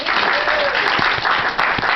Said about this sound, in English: let's give Mr. Bill Hampton another round of applause